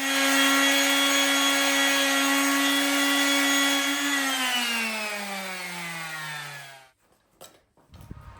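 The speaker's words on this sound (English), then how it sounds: "Doesn't matter, I always sand everything." A power sander working on aspen wood pieces, a steady loud motor whine that holds, then winds down in pitch and stops, followed by a couple of soft knocks and handling noises.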